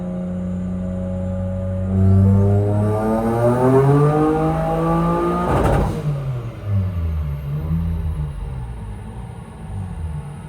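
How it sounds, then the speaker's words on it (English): Built Nissan 350Z engine on a dyno, revving through a rising sweep that peaks and cuts off sharply, then idles and burbles back down, loud and close. "He's going to turn it up just a little bit more, see what it'll do on the dyno."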